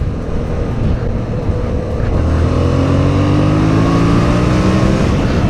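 A Yamaha MT-07 naked motorcycle on a test ride, its engine note climbing steadily in pitch as it accelerates hard, loud and close with steady wind rush underneath.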